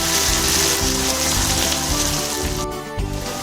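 Onions sizzle and fry in a pan for dhaba-style egg curry, a dense continuous crackling hiss with occasional stirring bumps, close and steady, no speech.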